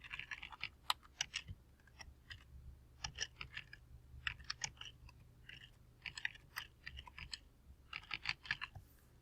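Fast, irregular bursts of keystrokes on a computer keyboard clatter in quick clusters with short pauses between them, close and fairly quiet, with no talking.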